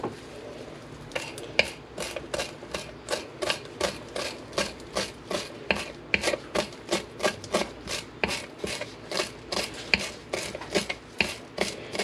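A knife taps steadily on a cutting board, trimming the ends off cilantro for green salsa, with about two dozen crisp, even chops in a regular rhythm up close and no talking.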